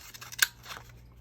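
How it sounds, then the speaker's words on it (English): Scissors snipping paper into tag shapes for a junk journal: a few soft quick cuts building to one sharp, close snip, then quieter rustling, with no voices. "cut these so they have tag shapes"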